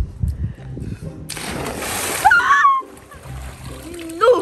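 A person jumps into a swimming pool filled with dry ice, giving a sudden loud splash followed by sloshing water, with voices talking before the jump and shrill exclamations afterward.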